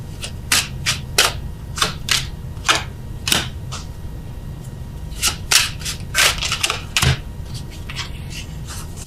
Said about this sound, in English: I just feel like getting the cards down for you guys first.